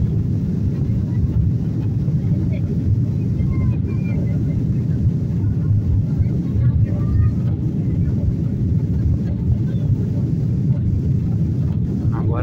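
Airliner cabin during takeoff on a long-haul flight, a loud steady engine roar and rushing noise filling the whole stretch without letup, with faint voices in the background.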